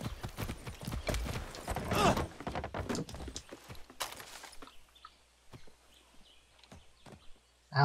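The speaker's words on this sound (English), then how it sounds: "How's that horse alive?" Horse hooves clip-clop in Far Cry 6, a run of close, sharp hoofbeats under speech that thins to a few scattered, fainter steps over quiet background.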